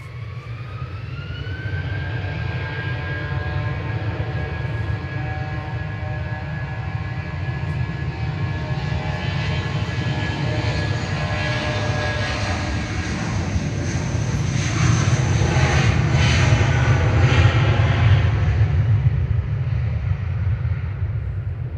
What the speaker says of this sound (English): Next to land will be Ryanair from Oslo in the background, 737-800.